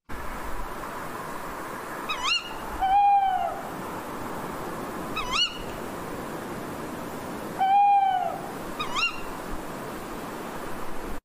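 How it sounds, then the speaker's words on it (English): Two tawny owls trade hoots in call and response, the calls alternating at a steady pace over a soft hissing background, fairly close and clear. "what we're actually thinking of is two tawny owls in a call and response"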